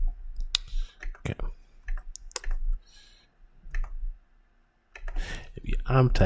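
Clicking of computer keys in short irregular bursts, close and fairly loud, with pauses between, as a person talks over parts of it.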